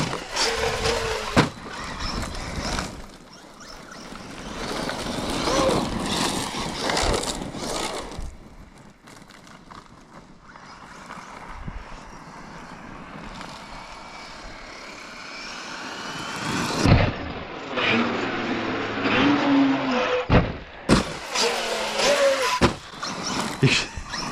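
Traxxas Maxx Slash 6s RC truck with one unglued tire, its electric motor whining loud and close as it drives and jumps, rising and falling in bursts with short gaps between runs.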